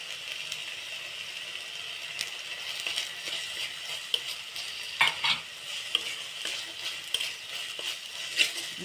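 Garlic and ginger paste sautéing for masala paneer crackles softly while a spoon scrapes and taps against the pan in irregular strokes, with a few sharper metallic clicks, close and moderately quiet.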